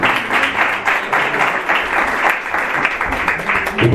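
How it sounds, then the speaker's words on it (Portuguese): A church congregation gives sustained applause during a Portuguese-language sermon, a dense and steady wash of clapping from many hands that stays loud and unbroken throughout. "Uma salva de palmas a Jesus"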